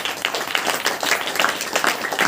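A church congregation at a Saturday prayer meeting claps steadily in praise, a dense, loud wash of many hands with no pause.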